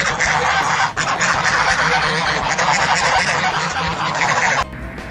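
Dense, noisy squawking of waterfowl fills the clip, steady and loud throughout, like a flock of geese honking together, easing off just before the end.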